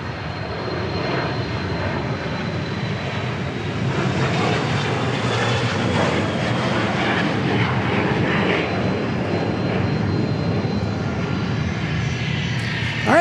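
A fixed-wing airliner at Dallas Love Field roars steadily with loud broadband engine noise, holding at the same level throughout with no voices over it.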